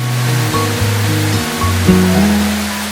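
Courtallam waterfall in Tenkasi plunges with a steady, continuous broadband roar that fills the whole stretch, with some faint tonal sounds mixed in.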